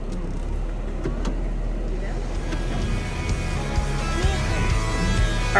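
A Jeep works over an off-road obstacle on a badlands trail with a low, steady engine rumble, faint creaks and knocks, while people talk over it.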